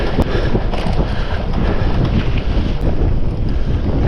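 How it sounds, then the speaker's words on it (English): Strong wind gusting straight into the microphone on an open hilltop along a rocky upland walking trail, a loud continuous roaring buffet with low rumbling and no let-up. "There's quite a strong wind coming from my right hand side."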